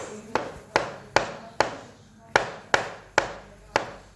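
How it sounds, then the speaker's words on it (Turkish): A knife slices mushrooms thinly for a beef fillet dish, making about eight crisp, evenly spaced chopping strikes in a steady rhythm, each close and distinct with no talk. "Mantarlarımızı ince kesiyoruz."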